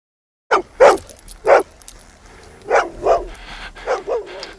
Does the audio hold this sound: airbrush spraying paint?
no